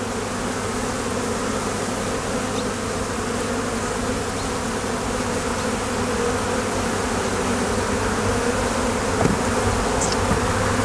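A thick, steady buzz of many honey bees fills the space around hive frames in a hive newly settled by a caught swarm, close and unbroken, with a faint tap near the end.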